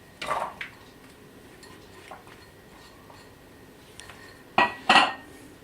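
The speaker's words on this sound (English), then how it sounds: "we're going to put in the ingredients into the Magimix" Chickpeas and onion drop into a Magimix food processor bowl, making sharp clinks and clatters in a few bursts, loudest near the end, in an otherwise quiet room with no talking.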